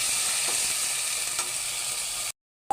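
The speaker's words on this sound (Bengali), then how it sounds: "শুটকিটা একটু তেলে সুন্দর করে ভেজে নেবেন।" Dried fish (shutki) frying in oil with onions in a pan, giving a close, steady hiss of sizzling with a few stir sounds, then a brief silence at the end.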